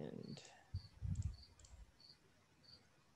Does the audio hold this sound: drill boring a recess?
no